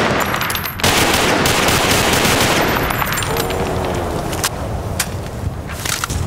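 Rapid machine gun fire in the video game Battlefield, a loud continuous rattle of close shots lasting several seconds, then tapering into scattered bursts.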